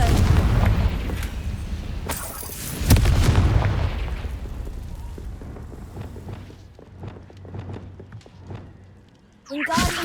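A Confringo fire spell bursts in Hogwarts Legacy: a loud booming explosion near the start, followed by crackling debris and scattered smaller pops, with another burst at the end.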